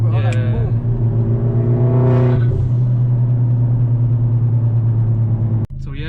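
A remapped Vauxhall Corsa VXR engine loud and close during a full-throttle pull, a steady droning roar with rising pitch sweeps, then an abrupt cut near the end before the engine note resumes.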